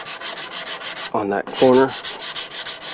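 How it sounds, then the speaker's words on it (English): An edge rubbed down with a small sanding block on a Kitt car build, steady rhythmic back-and-forth strokes close up, continuing under a man's brief speech. "Take your little block and just sand it"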